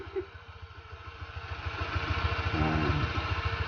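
A Honda Click125 scooter-style motorcycle engine runs steadily close by, its low pulsing idle rising slightly in loudness toward the end, with no talk over it.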